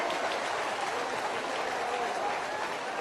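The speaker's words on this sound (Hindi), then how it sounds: "तालियों की गड़गड़ाहट से खोलवा।" Crowd applause at a BJP political rally in Madhya Pradesh, a continuous wash of clapping from many people, fairly distant and moderately quiet, steady for a few seconds.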